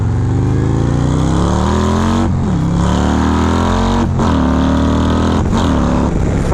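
Harley-Davidson 2.2-liter V-twin motorcycle pulling hard through second gear with a loud, continuous engine roar that rises in pitch. Brief dips mark shifts, and wind rush is heard throughout.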